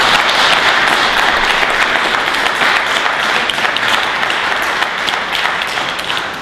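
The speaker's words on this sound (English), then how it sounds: "deserve an enormous round of applause" Audience applause for a panel of artists and novelists at an evening event, dense steady clapping filling the room, loud and sustained throughout.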